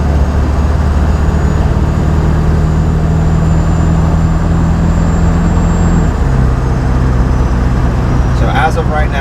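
A 7.3 diesel truck cruises in overdrive at 65 miles an hour on open road, giving a loud, steady engine and road drone whose tone shifts slightly lower partway through.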